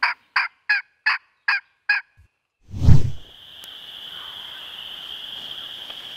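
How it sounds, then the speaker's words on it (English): Wild turkey gobbling on Iowa public land during a spring hunt, a burst of six rapid, loud gobbling notes close by, followed by a heavy thump and a quiet steady outdoor hiss. "we've literally been on this turkey gobbling down here in the same spot for about 2 hours"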